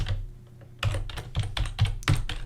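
Computer keyboard typing code, a quiet pause followed by a close, irregular burst of clattering keystrokes.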